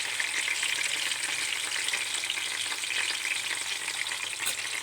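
Green chilies and cumin seeds fry in hot oil, a loud, continuous close-up sizzle with faint crackles and no voices.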